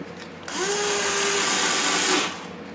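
A power drill fitted with a 1/16-inch bit running on a 200 mini quadcopter frame, one close, loud whine lasting under two seconds that rises in pitch as it starts, then stops.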